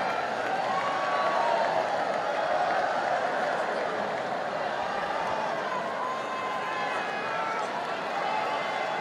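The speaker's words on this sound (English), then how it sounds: "We have pretty much a different crowd with us today. They're rather noisy." A noisy crowd at a Roland-Garros men's final tennis match makes a dense, steady murmur of many voices that fills the whole stretch at a fairly even level.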